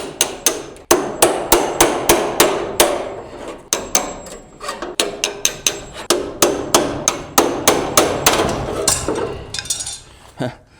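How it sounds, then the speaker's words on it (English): Loud, rapid metallic hammering as a panel breaker bar is driven to split a welded bracket off the floor of a 1969 Mustang Super Cobra Jet, dozens of sharp ringing strikes in a steady rhythm close by. "I'm just going to use this panel breaker bar here and go in here and split this bracket off"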